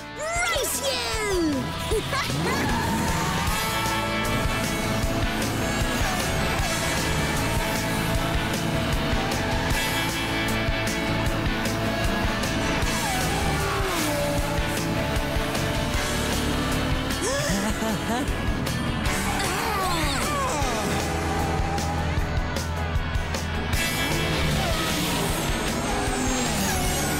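Cartoon cars rev and race off together, with engines roaring, pitch sweeps as they speed away, and a busy, loud mix of motor sounds under speech.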